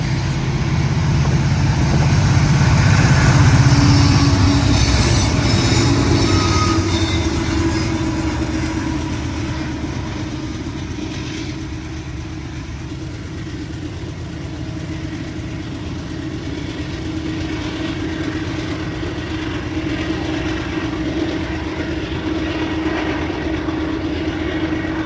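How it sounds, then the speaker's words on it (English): Union Pacific freight locomotives with cut-in helpers rumble past on the Cascade Subdivision in the rain: a loud, close, deep roar that peaks early and then slowly fades into a steady hiss of rainfall. "as the thundering locomotives vanish in the mist"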